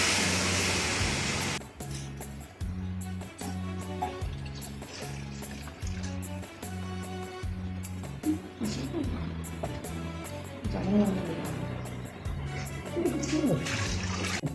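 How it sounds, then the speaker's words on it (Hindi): Water poured from containers into a pot of rice for kabuli pulao, a gushing pour at first, then steady splashing and trickling under background music. "इसमें पानी डालना है, अब चावलों में पानी जाएगा।"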